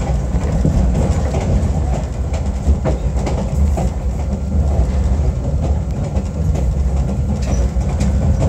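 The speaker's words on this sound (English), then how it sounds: "This is the only train we could go on this nearby in Georgia." A SAM Shortline excursion train rolls through Georgia between Cordele and Americus. From on board, a steady, close rumble of wheels on track with faint rhythmic clacking continues with no speech.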